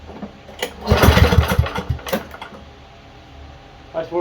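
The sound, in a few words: Ariens lawn mower engine running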